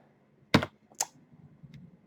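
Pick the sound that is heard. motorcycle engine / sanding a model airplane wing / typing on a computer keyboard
typing on a computer keyboard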